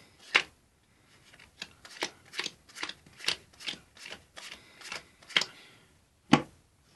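Bicycle-brand Aristocrat playing cards are handled for a magic trick, with soft snaps, flicks and slides arriving in an irregular series of close, quiet clicks.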